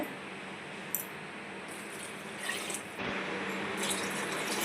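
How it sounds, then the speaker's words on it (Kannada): Water pours steadily into a pot of rice with a soft, continuous splashing rush, close by and without talk. "ಒಂದು ಲೋಟ ಅಕ್ಕಿಗೆ ಎರಡು ಕಪ್ಪನ್ನು ನೀರು ಆ್ಯಡ್ ಮಾಡಬೇಕಾಗುತ್ತೆ"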